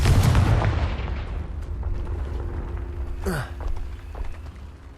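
A Confringo spell blast in Hogwarts Legacy, a booming explosive burst at the start that fades away, followed by a sharp whooshing streak near the end.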